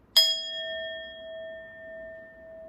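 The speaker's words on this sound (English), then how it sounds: "Bells are great for protection." A single bell struck once in a quiet room during a spiritual cleansing ritual, giving a sharp bright ding that rings on with a clear, slowly fading tone.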